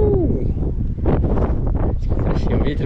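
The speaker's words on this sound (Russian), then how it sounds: "Ветер, правда, задувает." Steady wind roars against the microphone outdoors on the rocks in Kerch, Crimea, a constant broadband rush with gusty swells, while a person speaks over it.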